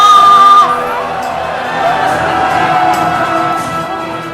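In an animated Bible story, a crowd of worshippers shouts and cries out around an altar, a loud, sustained mass of voices that swells and fades.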